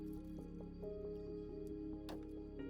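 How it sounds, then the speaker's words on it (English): Water pours into a glass in a quiet indoor setting, filling it about a quarter full with soft gurgling, dripping and splashing sounds that stay close and fairly faint. "Let's fill the glass about 1/4 full of water."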